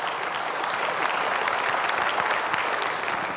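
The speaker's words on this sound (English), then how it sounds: "I think we ought to give the Lord a big praise clap for that." Church congregation giving a sustained praise clap during a Sunday service at a prayer center, dense steady applause filling the room for the whole stretch.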